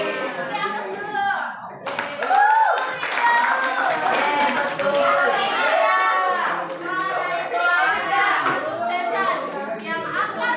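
A class of twelfth-grade high school students in a classroom guidance session applauds loudly and steadily for about ten seconds, with voices mixed into the clapping.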